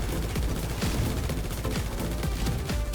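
Video game gunfire rattles continuously as a cargo bob is shot down, a dense, loud, sustained burst of rapid shots with no voices.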